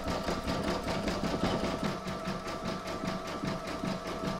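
An embroidery machine sews a dense satin stitch along a join on an in-the-hoop mandala placemat, its needle pulsing in a fast, even rhythm, close and loud with no talk.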